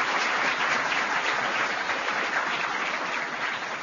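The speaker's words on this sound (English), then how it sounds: "Give yourselves a round of applause" Steady applause from a large crowd at a student leadership conference, dense and continuous clapping throughout with no voices standing out.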